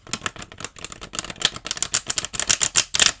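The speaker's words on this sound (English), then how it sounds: "I'm going to do one more shuffle because that one was a little messy." Quick, crisp rippling clicks of cards being riffled together, accelerating into a dense flurry of snaps close to the listener.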